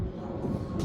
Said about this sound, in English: that's the train passing by